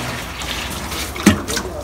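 Water pours into a concrete mix made with sea shells and rock, a continuous splashing trickle with a brief louder gush partway through, heard under ongoing talk.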